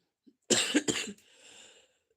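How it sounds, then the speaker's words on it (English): A single harsh cough, close and fairly loud, followed by a brief breathy trailing sound, with a faint click just before. "I believe that's what's making me cough now."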